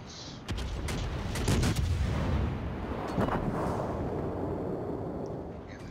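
Heavy naval gunfire from a warship video game, with a dense, sustained barrage of booming shots and rumble rolling on for several seconds, loud and close.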